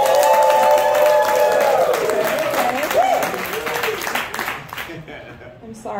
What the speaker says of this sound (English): Cheer if you think Mo won.